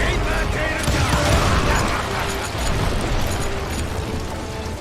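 Rumbling explosions boom in quick succession in Call of Juarez: Gunslinger, a dense, loud barrage with some talk mixed in.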